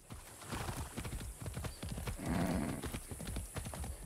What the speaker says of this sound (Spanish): me encanta montar a caballo en el juego